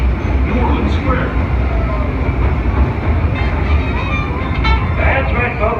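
A Disneyland Railroad train rolls into New Orleans Square Station with a steady rumble and clatter of the cars, loud and close, while an announcer speaks over it.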